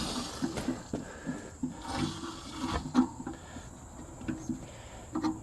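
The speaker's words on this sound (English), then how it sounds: "Let's just run some water and see what happens." Water runs through a homemade tankless water heater, a continuous gurgling rush with repeated low knocking surges, moderately quiet and steady with no voices.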